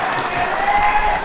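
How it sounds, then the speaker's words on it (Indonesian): A crowd at a political rally in Sumedang applauds loudly, a dense continuous roar of clapping with some cheering mixed in, filling the space without pause. "Tepuk tangan buat Pak Haji dan Bu Hajinya"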